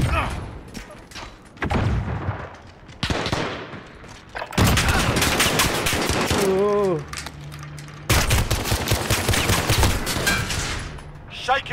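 Gunfire in Call of Duty Modern Warfare multiplayer gunfight mode, including shotgun blasts: bursts of shots and sharp cracks in clusters, loud and close, mixed with game sounds and a player talking over them.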